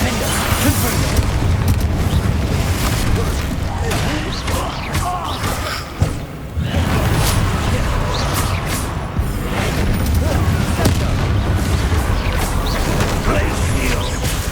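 Spell blasts in Hogwarts Legacy combat: continuous loud booming explosions and crashing impacts, with one sharp hit near the middle. A player shouts spell names over the din.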